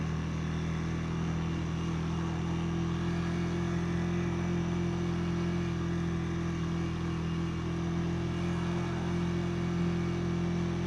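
A Honda Rebel motorcycle engine running steadily in first gear, a constant low droning hum with a firm, even tone and no revving, close and uninterrupted.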